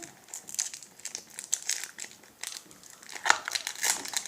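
The plastic wrapping of a toy surprise box crinkles up close in quick, uneven bursts, soft but steady throughout.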